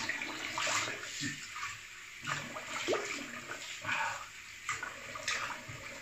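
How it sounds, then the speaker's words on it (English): Cold tap water splashes and runs in short bursts as a face is rinsed after a straight razor shave, close and fairly soft, with uneven pauses between the splashes. "Cold water rinse."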